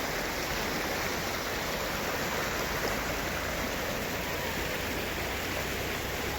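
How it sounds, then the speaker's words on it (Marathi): River water flowing in Betaab Valley, Kashmir, a constant, full rushing wash of a stream heard close and steady throughout, with no voices. "छान असं पाणी वाहतंय"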